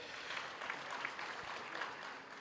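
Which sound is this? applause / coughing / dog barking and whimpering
applause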